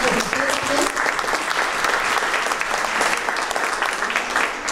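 Sustained audience applause at a regional Socialist political gathering, dense steady clapping from a crowd that holds at an even level throughout without pause.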